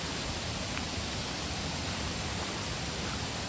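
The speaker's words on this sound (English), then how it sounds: "It's a lot of water." Water rushes steadily at a waterfall seen on a nature walk, a dense, even roar with no pauses and no voices over it.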